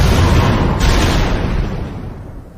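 A loud, rumbling blast already underway that slowly fades, a broad roaring boom with no voices.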